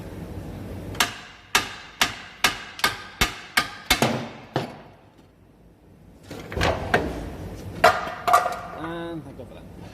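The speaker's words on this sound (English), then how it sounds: "so I put a little chisel in the top there. Just spread it a little bit to try and get it out," Metal chisel driven with rapid, evenly spaced hammer blows into a Hyundai i10 front wishbone joint, about ten sharp close strikes, a pause, then several more irregular knocks and clatter.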